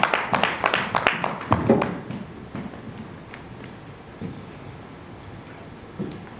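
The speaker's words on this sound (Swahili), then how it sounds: "tutakwenda kumshangilia mtumishi wa Mungu tukimkaribisha kwa makofi na vigelegele" A church congregation claps to welcome the preacher. A dense burst of applause fills the first two seconds, then thins to scattered claps and fades.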